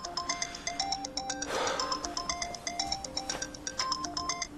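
A mobile phone plays a bright, repeating melodic ringtone, a steady sequence of electronic notes that carries on alone for several seconds.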